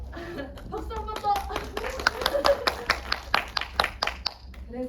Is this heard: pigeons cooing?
no